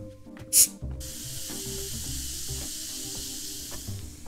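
A short, sharp hiss as a bottle of sparkling mead is opened, then soft steady fizzing with faint handling noises nearby.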